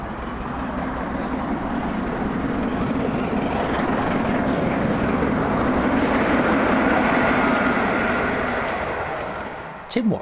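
A King class steam locomotive passes as a sustained rumbling roar that swells toward the middle and fades, with a faint high gull-like whistle near the end; no one speaks.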